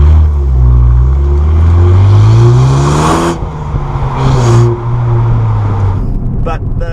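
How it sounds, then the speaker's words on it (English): A Ford Focus ST accelerates through the gears, its engine and exhaust droning loud and close with rising pitch, two brief pauses for shifts, and no crackle or pops. "the exhaust note itself sounds relatively tame"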